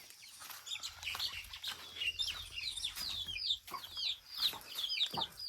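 Soft clucks and chirps from a sick Aseel chick with chronic respiratory disease (CRD), a series of short, close calls over steady low barn noise, with no talking.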